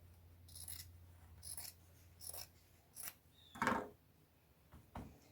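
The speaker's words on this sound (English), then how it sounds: "Now I am going to cut this corner off." Scissors snip through the corner of thrifted denim bib overalls in a few separate quiet cuts with pauses between them, close by and with no talking.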